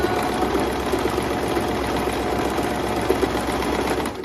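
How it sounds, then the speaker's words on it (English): Sewing machine stitching around the body of a tote handbag, a steady close mechanical whir with a rapid needle rhythm running continuously throughout. "So you're just gonna keep sewing all around."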